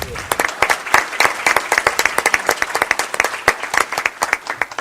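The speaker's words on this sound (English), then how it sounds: "Can we give Billy a round of applause?" Audience clapping at a state luncheon, a steady burst of many hands close by that keeps up for several seconds without fading.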